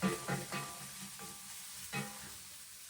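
Chilies toasting in a skillet, a faint steady sizzle with a few soft scraping or stirring strokes, close and quiet, no talk.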